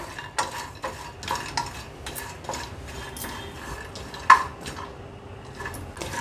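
Whole spices dry-roasting in a pan for garam masala, stirred with a utensil that scrapes and clinks repeatedly against the metal, with close, uneven strokes and one sharper knock.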